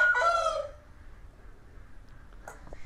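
A fancy-breed rooster on a farm in Hoshiarpur crows once, a loud, close, drawn-out call at the very start, followed by quiet farmyard ambience and a couple of faint knocks.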